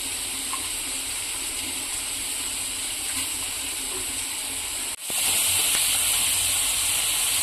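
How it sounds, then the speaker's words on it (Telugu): Onions and prawns frying in a pan for a home curry, a steady broad sizzling hiss that jumps louder after a brief dip midway, continuous and close with no talking. "ఆల్రెడీ ఆనియన్స్ ఫ్రై అయిపోతున్నాయి."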